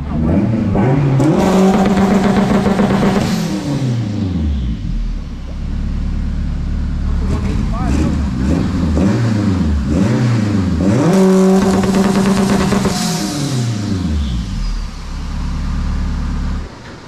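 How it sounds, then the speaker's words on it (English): A turbocharged Honda K20-engined EF sedan revs up and down repeatedly, loud and close, with rising turbo-spool whistling tones heard through the muffler riding over the exhaust rumble. "You can hear the turbo spool in the muffler."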